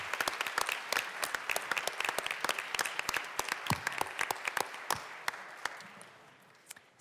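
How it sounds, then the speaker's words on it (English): Applause fills a state legislative chamber for nonpartisan staff in the Colorado House, a dense, steady round of clapping that thins out toward the end, with no talk over it. "So one more round of applause for all of these incredible nonpartisan staff."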